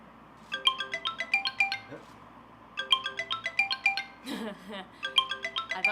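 A phone ringtone goes off during a stage performance at a new works festival, playing a bright, repeating melodic chime in three loud bursts with short pauses between them and faint room noise underneath.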